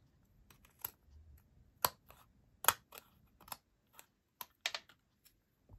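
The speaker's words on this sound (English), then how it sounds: "Use a good pair of scissors, because you're going through several layers" Sharp scissors snip repeatedly through several thick layers of card, giving a string of crisp, close clicks and crunches with short pauses between cuts.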